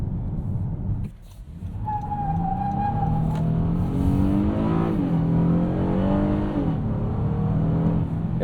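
A 2025 Honda Odyssey minivan accelerates hard in S mode, its engine note climbing steadily through the revs with a sweeping whine, heard from inside the cabin as a strong continuous rise.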